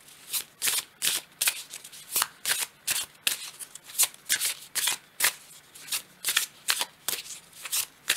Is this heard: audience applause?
no